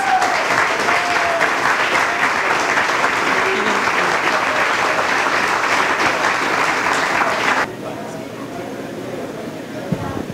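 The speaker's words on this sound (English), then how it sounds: "Let's give them all a big round of applause." An audience at a candidate event on a farm breaks into loud, sustained applause and cheering, which cuts off abruptly partway through, leaving quieter room noise and a few scattered claps.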